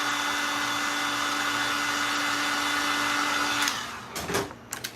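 Electric heat tool blowing hot air over a Goodwill cross before cutting: a steady, loud whirring hum with a constant tone that cuts off near the end, followed by a few clattering handling noises.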